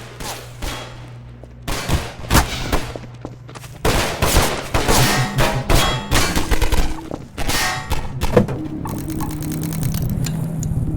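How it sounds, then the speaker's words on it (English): Half-Life 2 gunfire with bullets whizzing past, made up of rapid bursts of shots, metallic clangs and pinging impacts that come close and loud in dense volleys. Combat noise and a steady hum run underneath. "We then play two different sounds at that point to fake a Doppler effect, one for the bullet's approach and one for its departure."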